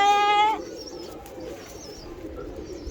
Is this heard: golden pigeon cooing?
yes